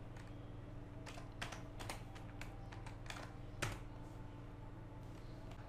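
Code is typed on a computer keyboard in quick bursts of crisp, close key clicks with short pauses between words, quiet overall with no speech.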